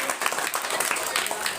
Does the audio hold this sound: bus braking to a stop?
no